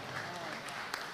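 Audience applause greeting the poet Sunder Malegavi at an All India Mushaira, a dense, steady wash of clapping that holds at an even level through the short stretch.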